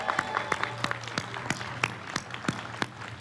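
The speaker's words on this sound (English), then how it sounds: "I think just one more round of applause for Lisa Lee." Applause from an audience at a public art unveiling in Jamaica Plain, heard as scattered, sparse claps at a moderate distance, with a steady low hum beneath.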